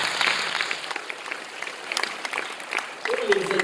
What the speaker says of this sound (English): A round of applause, ladies and gentlemen, for Yohan Almeida.